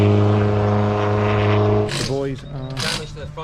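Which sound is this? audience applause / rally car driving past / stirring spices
rally car driving past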